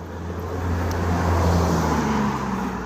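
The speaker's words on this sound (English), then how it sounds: "as you can see, there's a lot of cars" Steady stream of cars on the busy Military Road in Dublin, a continuous close roar of tyres and engines swelling as a vehicle passes near, with no talk over it.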